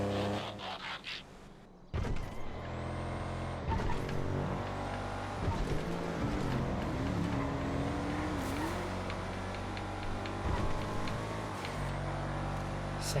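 A Sterling GT in GTA FiveM drives under steady engine drone, with pitch swinging up and down through gear and throttle changes and brief tire squeal, heard fairly quietly with no talking.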